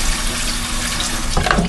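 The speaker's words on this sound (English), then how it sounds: "I'll turn off the water" A kitchen tap runs water into a sink, a steady close rushing splash that holds evenly before a brief clatter near the end, with no one speaking.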